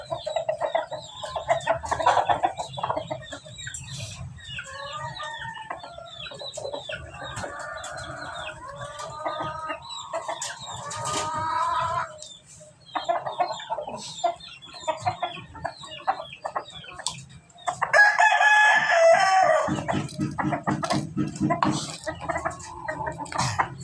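Farmyard chickens clucking steadily close by, with a rooster crowing partway through and a voice talking beneath the birds in places.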